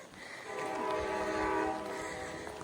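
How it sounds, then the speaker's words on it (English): A train approaching in Denali National Park, Alaska, with a sustained horn blast over the rumble of rail traffic, fairly close and loud. "it sounds like a train's coming as well"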